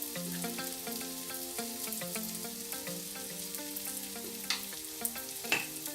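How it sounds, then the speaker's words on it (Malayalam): Turmeric, coriander and chilli powders fry in a pan for chicken pulao, giving a steady soft sizzle with occasional stirring scrapes and a few sharper ticks, close and fairly quiet, with no talking. "മഞ്ഞൾപ്പൊടി, മല്ലിപ്പൊടി, മുളക് പൊടി ഇതെല്ലാം ഇട്ട് കൊടുത്തിട്ട് നല്ലതുപോലെ ഒന്ന് ഫ്രൈ ചെയ്തെടുക്കാം"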